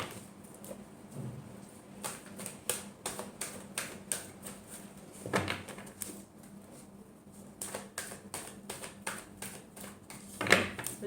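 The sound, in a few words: shuffling tarot cards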